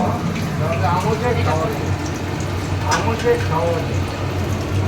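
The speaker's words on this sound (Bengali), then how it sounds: "আর এখানে ইলিশ মাছ ভাজা হচ্ছে" Hilsa fish frying in hot oil, a steady crackling sizzle that sits under people talking close by.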